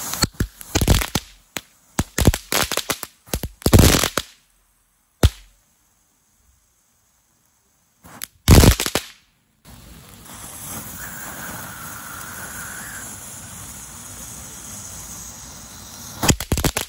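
Firework fountains mounted on customized Hot Wheels cars: sharp crackling bursts and pops, then a steady close hissing spray of sparks with a brief whistle, ending in a few more crackles.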